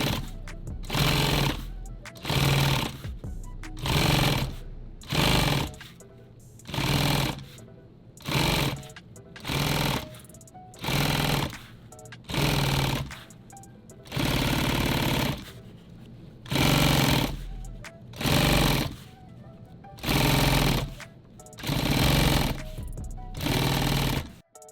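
Sewing machine stitching a nylon clothes bag, running in a steady series of short loud bursts of rapid needle chatter with brief pauses between them, close up.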